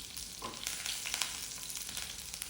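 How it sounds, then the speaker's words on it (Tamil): Mustard seeds crackle and pop in hot oil while tempering with green chillies, a steady, busy sizzle with sharp little spits throughout and no voices. "எண்ணெய் காஞ்சோனே கடுகு போட்டு கடுகு பொரியட்டும்"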